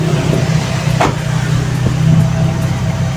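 A carbureted Toyota 2E engine idles at a raised RPM, held up by its dashpot. It gives a loud, steady, even hum close by that keeps going throughout, with no one speaking.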